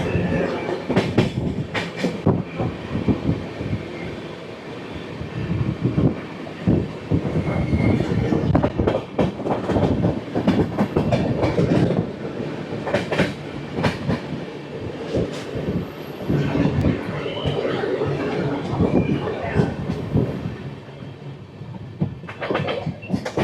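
The Black Diamond Express runs between Howrah and Dhanbad, nearing Durgapur. It makes a loud, close, continuous rumble with rhythmic wheel clatter and rattling carriages, with no voices over it.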